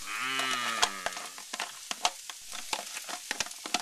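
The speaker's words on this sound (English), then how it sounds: "So let's toss the onions. Get that nice sizzling sound." Onions sizzle and crackle in a hot frying pan with fat, with scattered pops; a low lowing sound is heard at the start.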